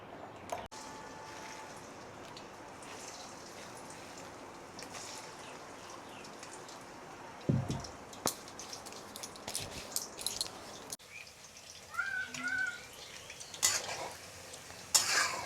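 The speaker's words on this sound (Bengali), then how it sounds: "এখন আমি এগুলো আরও তেলে ভাজবো।" Diced dhoka, Bengali lentil cakes, fry gently in oil over low heat, a faint steady sizzle with occasional utensil clinks and stirring scrapes near the end.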